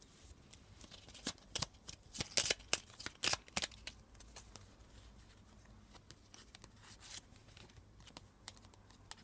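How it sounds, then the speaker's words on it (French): Tarot cards being shuffled and drawn from the deck, quiet papery riffles and flicks in a cluster of sharp bursts, then sparser soft card handling, close and faint. "Je vais à présent vous tirer une dernière carte"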